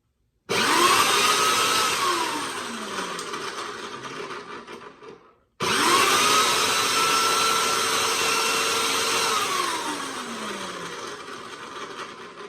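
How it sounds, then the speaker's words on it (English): A Legend Force 13 amp electric dethatcher scarifier started twice in a garage. Each time it spins up to a loud, steady motor whine with a buzzing rattle, then winds down, with a short silence between the two runs. "Let's fire it up in the garage here and see how it runs."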